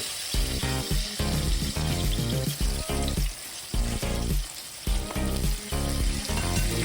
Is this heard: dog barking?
no